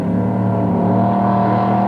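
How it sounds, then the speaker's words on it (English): A loud, rough engine drone from a faulty offshore racing powerboat at the 2002 Sarasota Suncoast Offshore Grand Prix runs steadily throughout, sounding strained and uneven. "they got a sick motor. You can hear it all day long."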